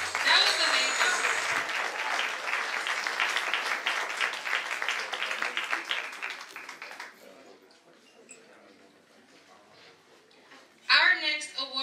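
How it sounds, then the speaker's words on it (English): Audience applause at an awards event, loud sustained clapping for several seconds that fades out, followed by a short quiet gap and a brief burst of clapping near the end. "give them another round of applause"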